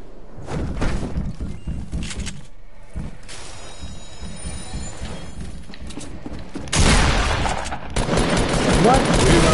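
Gunfire in the video game Fortnite, a dense fusillade of shots and thumps running steadily throughout, loudest and harshest in the final few seconds, with some voice in the mix.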